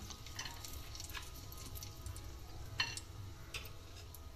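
Bay leaf and cinnamon sizzle quietly in hot ghee, a faint steady frying crackle with a few small ticks and one brief clink partway through.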